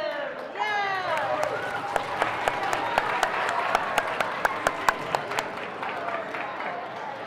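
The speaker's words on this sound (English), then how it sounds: "Give a round of applause to them." Audience applause at a regional awards ceremony, a crowd clapping steadily with some sharper individual claps standing out, and voices talking underneath.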